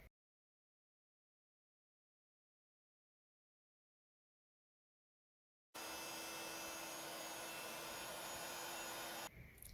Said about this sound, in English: Now I'm going to heat emboss that in gold.